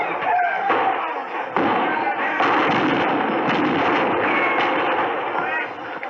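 Gunfire effects in a 1956 old-time radio western set at Fort Laramie, a dense, continuous clatter of shots and bangs, loud and busy, with voices and crowd shouts mixed in throughout.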